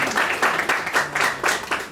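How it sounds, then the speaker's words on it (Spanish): Audience applause at a panel on disinformation, a steady mass of clapping from a seated crowd, fairly close and moderately loud, running continuously with slight swells through the two seconds. "Un aplauso por favor a María Silvia."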